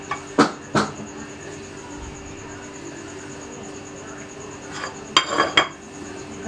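A spoon clinks and scrapes against a dish while garam masala powder, lemon juice and coriander are mixed for beef tikka karahi, with a few sharp taps early on and a cluster of clatters near the end over a quiet kitchen background.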